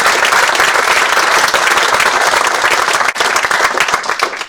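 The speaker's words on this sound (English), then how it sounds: "Round of applause, please." An audience at a hydrogen energy conference gives speaker Diarmaid loud, sustained applause, a dense wash of many hands clapping that dips briefly near the end and then resumes.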